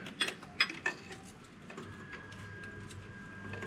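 Ratchet turning an 8mm socket on a banjo bolt during twin turbo removal on a VW Touareg V10 TDI: a few quick clicking ratchet strokes early on, then quieter mechanical ticking against faint background noise.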